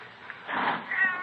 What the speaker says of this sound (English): might be it's just a cat out in the streets now, in the side alley, maybe, huh?